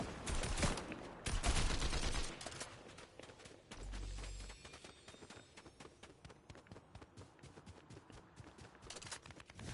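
Gunfire in a Fortnite battle royale duos match rattles out in dense, rapid bursts that overlap with running footsteps, loud and nearly continuous throughout.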